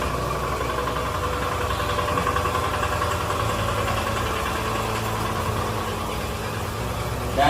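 Small gasoline-powered motor running at a steady idle, a constant mid-pitched droning hum with slight knocking vibration, close and unbroken throughout, with no speech.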